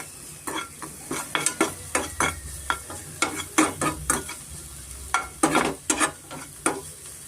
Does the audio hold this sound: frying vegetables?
yes